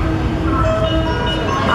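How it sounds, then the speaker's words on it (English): A train arriving at a station in Japan, on the Shin Osaka–Kyoto route, rumbles steadily at close range, a low continuous roar with faint tonal whines, and no break in the noise. "Our train is coming."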